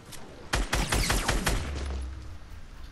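A SCAR assault rifle fires in Fortnite, a rapid burst of loud, close shots in quick succession followed by a lingering low rumble and fading echo.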